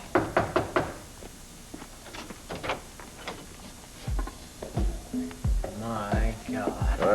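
Knuckles rap on a door in a 1982 television soap opera scene, several sharp knocks in quick clusters early on, followed later by heavier thuds and a voice speaking near the end.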